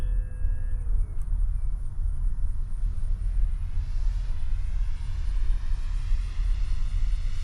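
An E-Flite Carbon Z Cessna 150 radio-controlled model plane drones steadily at a radio control club field, a continuous electric motor whine with its pitch drifting slightly as it flies at moderate distance over outdoor wind rumble.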